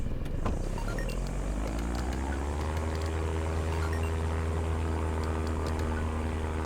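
A propeller airplane drones steadily in a video game, its engine tone rising briefly then holding a constant loud hum throughout, with no talk over it.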